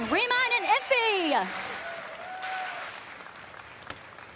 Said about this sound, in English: Please put your hands together and cheer for these guys as the game is now starting.